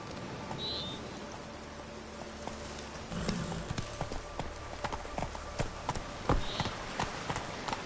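Hoofbeats of Roach, a horse in the video game The Witcher, clip-clop in a quick, steady rhythm while galloping, with a soft rain-like hiss beneath and a few brief faint calls.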